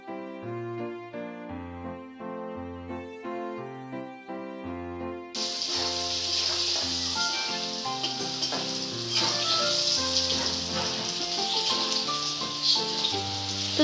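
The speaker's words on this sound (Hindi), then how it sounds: "गोल्डन ब्राउन कलर होने तक आलू को हमें फ्राई करना है।" Potato pieces frying in hot oil in a kadhai until golden brown, for an egg bhurji curry; a steady, dense sizzle and crackle that rises sharply partway through and stays loud over background music, with no talking.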